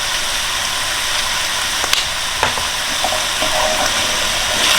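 Peas and cumin seeds fry in a pan with a steady close hiss, broken by a few sharp clinks and scrapes of a utensil, no voices.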